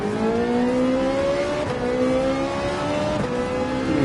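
Ferrari 458 Italia engine in Gran Turismo 7, rising steadily under loud continuous acceleration with two quick gear-change dips partway through, alone without voices.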